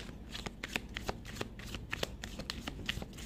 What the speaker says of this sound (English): And we're going to shuffle more.